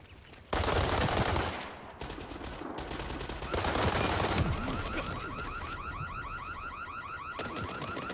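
Gunfire erupts in a World War 3 military shooter match, with loud, dense bursts of automatic fire and impacts that swell and recede across the scene, then continue as a steady rapid rattle in the background.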